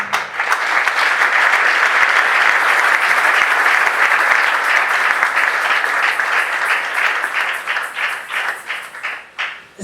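An audience applauds loudly to welcome a presenter at a book launch for a prophet's second book, sustained dense clapping throughout that loosens into scattered claps near the end.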